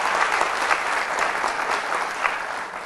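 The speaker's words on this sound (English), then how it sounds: "Give them a round of applause as well." Broad, sustained applause from a large audience at a university Founder's Day convocation, a dense wash of many hands clapping continuously and loudly in a big hall.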